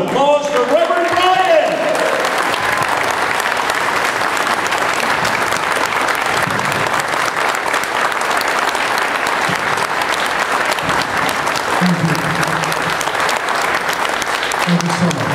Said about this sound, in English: let's give a round of applause for Reverend Bryant!